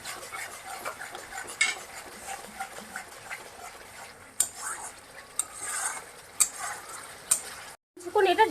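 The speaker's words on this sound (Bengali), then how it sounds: "এবার এটাকে ভালো করে নেড়ে মিক্স করে দিব। এটা কিছুক্ষণ একটু স্টিমটা বাড়ায় ভালো করে কষায় নিব।" Katla fish curry with yogurt stirred and sautéed in a pan, scraping and clinking utensil strokes over a steady low sizzle, with a brief gap near the end.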